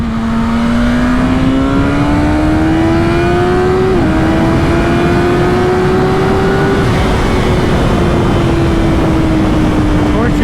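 A BMW S1000RR superbike pulls hard in second gear, its loud engine note climbing steadily for about ten seconds with a brief dip partway through before it rises again. The engine stays close and dominant throughout.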